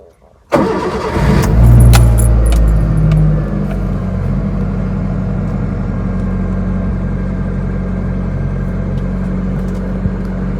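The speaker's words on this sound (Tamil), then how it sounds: "வாங்க போகலாம், வண்டி ஸ்டார்ட் பண்ணலாம்." A Maruti Eeco CNG car starts up: the starter cranks briefly and the engine catches, swelling into a loud rumble before settling into a steady, close idle.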